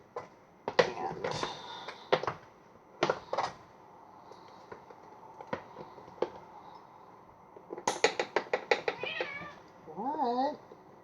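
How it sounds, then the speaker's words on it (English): A cat meows a few times close by, drawn-out wavering cries near the end, amid scattered clicks and knocks. "If you hear meowing in the background"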